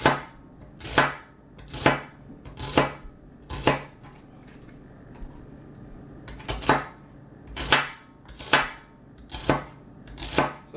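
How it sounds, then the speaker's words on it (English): Celery cut into 1-inch pieces with a knife on a kitchen surface without a tablecloth: close, steady rhythmic chops roughly every second, sharp thuds in two runs separated by a short pause. "Celery, we cut into 1-inch pieces."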